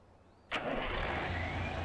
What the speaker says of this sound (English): we'll jump in our truck. Fire it up.